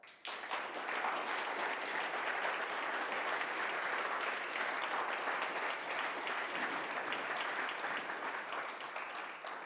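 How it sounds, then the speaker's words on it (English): A conference audience at an AI accelerator demo day claps steadily for nearly ten seconds, a dense, even wash of applause from many hands with no talking over it. "So big applause for that."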